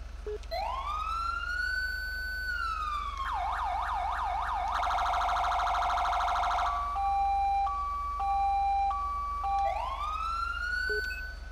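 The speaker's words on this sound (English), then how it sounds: "This is a Code 3 Mastercom B siren." A Code 3 Mastercom B police siren in the video game GTA V cycles through a rising wail, rapid yelp, harsh piercing tone and alternating hi-lo pattern, loud and continuous over a low engine hum.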